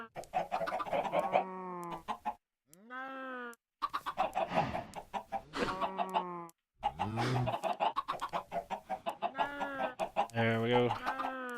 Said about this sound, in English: and we got some chickens.